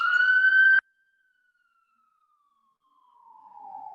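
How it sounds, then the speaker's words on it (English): An emergency vehicle siren passes outside, with a loud steady wail at the start that cuts off sharply, then a fainter siren tone slowly sweeping downward as it fades into the distance. "we'll wait for the siren to go by"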